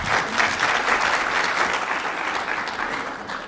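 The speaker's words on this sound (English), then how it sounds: "Can we give her one more round of applause?" Steady, dense applause from an audience at a community health care event in Brooklyn, a full and continuous wash of many hands clapping at even volume, tapering slightly near the end, with no voices over it.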